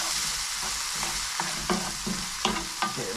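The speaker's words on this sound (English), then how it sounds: "Saute this" Prawn rice ingredients sautéed and stirred in a hot pan, a steady close sizzle broken by repeated scraping and clinking strokes of a utensil against the pan, with no talking.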